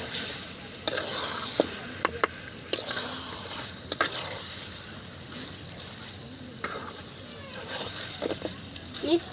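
Pre-fried potatoes and tripe are stirred with spices in a sizzling pan, with steady frying hiss under repeated scraping strokes and occasional sharp clacks of the spatula on the metal.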